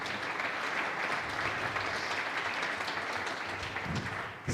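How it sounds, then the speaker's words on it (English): A conference audience at a broadcasting technology symposium claps for the speakers, a dense, even applause held at a moderate distance throughout, easing off only at the close. "So a big last applause for our speakers."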